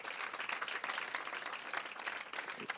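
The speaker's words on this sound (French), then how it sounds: "On les applaudit" An indoor audience at a mini-house conference in Sherbrooke claps for volunteers, giving brisk, even applause of many hands that holds steady for a few seconds.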